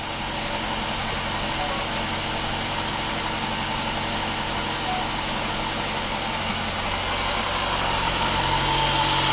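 The engine of a Kia K7 hybrid sedan runs at idle with the hood open, a steady close mechanical hum with a broad whirring hiss that holds evenly throughout, with no talk.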